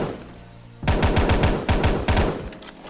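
SVK rifle fired in the video game Phantom Forces, a rapid burst of about eight loud close shots in two quick clusters after a short quiet lead-in.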